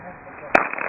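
A single sharp bang cracks out midway through a steady background hiss, followed by faint rattling crackles.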